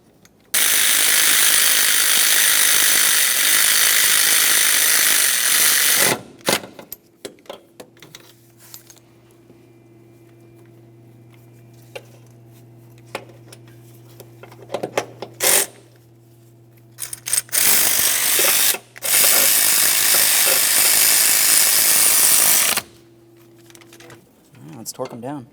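A ratchet snugs the starter bolts on a 1994-1997 Honda Accord, with two long runs of fast, close clicking separated by a quieter stretch with a low hum, a few clanks and a voice talking.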